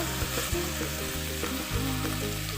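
Ginger-garlic paste fries in a pan for Bengali-style mixed dal, giving a close, steady sizzle with a few soft clinks and stirring knocks; no voices.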